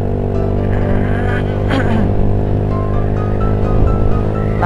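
A motorcycle engine runs loud and steady with strong low harmonics, and the rider's throttle brings subtle shifts in pitch as it pulls along.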